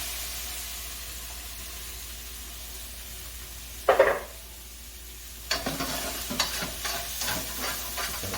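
Shallots and capers dropped into hot oil in a pan for chicken piccata, a brief loud hiss followed by steady sizzling with occasional stirring scrapes, fairly near.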